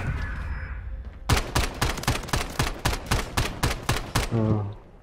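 Gunfire in the video game Rust, a rapid sequence of about a dozen loud, evenly spaced shots, preceded and followed by quieter background sounds.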